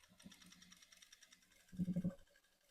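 A sewing machine stitches through folded fabric in a short, close burst of rapid even stitches near the end, after quieter handling sounds.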